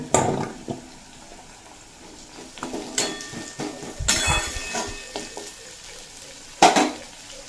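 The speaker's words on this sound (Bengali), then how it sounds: "পেঁয়াজটা বেশ নরম হয়ে যাওয়া পর্যন্ত ভেজে নিয়েছি এরপর এর মধ্যে এড করে দেব আলু" Potatoes go into a pan of softened frying onions, bringing stirring scrapes, spoon clinks against the pan and a steady sizzle, with sharper clatters now and then.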